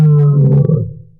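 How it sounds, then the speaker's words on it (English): A lion roars at a zoo, one strong, deep sustained call that fades out over about a second, with no voices. "they heard a mighty roar."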